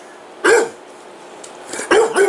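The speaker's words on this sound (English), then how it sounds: "I won't give you a treat if you're barking." A dog barks twice for a treat, two sharp, close, loud barks separated by about a second and a half of quiet.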